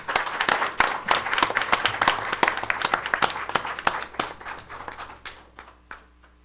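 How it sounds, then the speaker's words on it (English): Audience applause for a student artist at a school board meeting, a room of people clapping with sharp individual claps standing out, building then gradually thinning and fading toward the end. "let's give her a round of applause"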